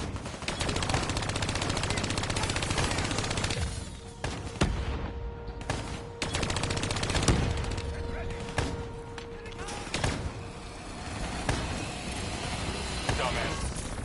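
Rapid automatic gunfire in the video game Black Ops 3, dense bursts of shots firing almost continuously with short pauses, loud and close, mixed with game sound effects.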